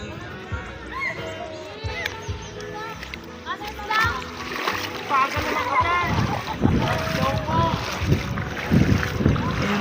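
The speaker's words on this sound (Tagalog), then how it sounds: "mga naliligo sila." People bathing and splashing in clear mountain water at midday, with irregular splashes and sloshing mixed with children's voices and lively chatter throughout, moderately close, under a steady outdoor wash of wind.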